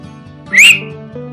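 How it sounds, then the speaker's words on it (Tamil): A single sharp, shrill whistle blast lasting about a quarter second, loud over a low rumbling vehicle background. "விசில் அடிச்சு பஸ்ஸை நிப்பாட்டினாரு கண்டக்டர்"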